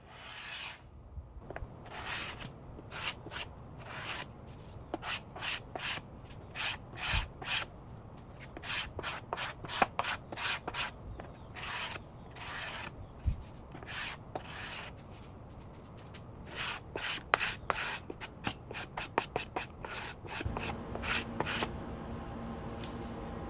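A traditional carbide scraper drags across wooden furniture in a long series of sharp rasping strokes, some single and some in quick bursts, close and crisp with short quiet gaps between.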